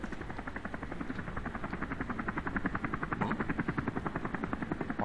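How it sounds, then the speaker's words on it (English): Helicopter flying in the video game Deus Ex: Human Revolution, a steady rapid rotor chop that thuds evenly and fairly loud throughout, with no talk over it. "More helicopter."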